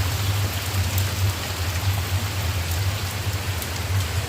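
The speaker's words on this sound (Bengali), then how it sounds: "দেখো বৃষ্টি হচ্ছে কি জোরে" Heavy rain pours down steadily outside a house, a dense, even hiss with a low rumble underneath that stays constant throughout, with no voices.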